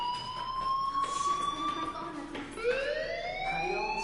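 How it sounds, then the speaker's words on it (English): Electronic fire alarm wailing in the video game Life is Strange, rising and falling tonal sweeps that repeat steadily and sound fairly loud. "do you hear that fire alarm?"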